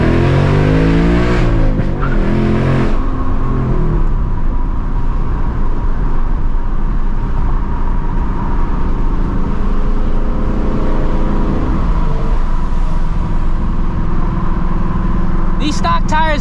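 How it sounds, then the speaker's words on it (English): A 2024 Mustang GT warming its tires, the V8 engine droning loudly and revving near the microphone with tire noise and a brief squeal near the end, voices heard talking early on. "Let's warm these tires up."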